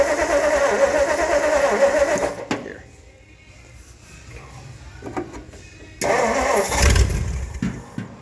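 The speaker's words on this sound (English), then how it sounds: "so now that we know the engine runs" An old 1964 Ford F-100 truck engine cranks and sputters, goes quiet for a few seconds, then catches again with a loud rumbling start; a voice speaks briefly.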